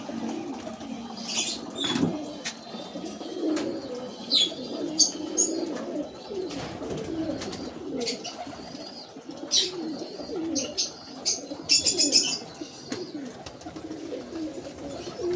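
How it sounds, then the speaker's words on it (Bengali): Loft of Bengali high-flying pigeons, with steady cooing and occasional bursts of wing flaps mixed with brief bird chirps, all fairly close in a busy rooftop setting. "দেখতে পাচ্ছেন এখানে কত পায়রা রয়েছে"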